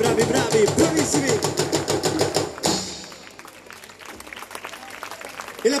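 Audience applauding a folk dance group at an international folklore festival, first in loud rhythmic unison claps, then breaking into a thinner, scattered ovation that trails off.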